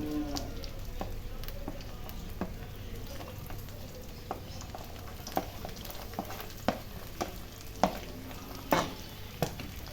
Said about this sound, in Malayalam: ആ ഇഞ്ചി വെളുത്തുള്ളിയുടെ ഒന്ന് ഒരുവിധം മൂക്കുമ്പോൾ ഒന്ന് വഴറ്റിയെടുക്കാം